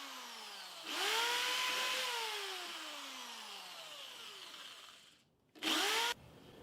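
A power drill driving screws into a wooden miter jig, two bursts of whirring: a long run of about four seconds that winds down, then a short, loud burst after a brief pause.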